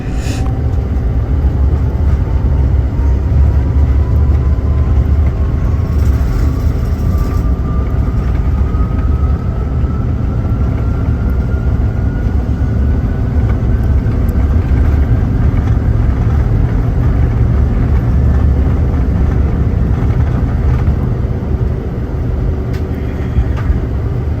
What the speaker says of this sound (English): And here we are, taking off at 7:21 a.m. as an on-time departure